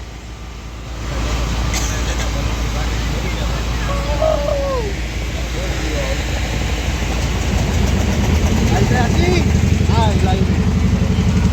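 Motor boat engine droning low and steady throughout a river boat ride from a ghat, loud and close, with birds calling and cooing over it and voices talking in the background.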